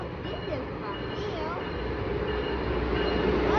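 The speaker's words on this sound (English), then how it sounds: "This is surprising to see an Amtrak Acela Express train slowing down to stop at New" Amtrak Acela Express train slowly rolling through New Carrollton station, a steady rumble of wheels and rail noise with faint squeals, close and continuous, with a person talking over it.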